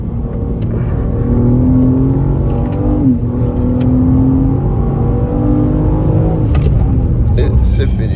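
Car engine revving hard on a Tour Auto road drive, a loud steady in-cabin roar with rising whine as revs climb, with people talking over it.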